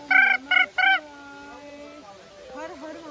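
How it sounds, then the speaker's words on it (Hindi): Near a hidden waterfall in the hills of Rishikesh, a bird gives three loud, close, harmonic calls in quick succession, followed by a faint tonal trailing call and softer chirps against a quiet background. "गाइस, चिड़िया बोल रही है।"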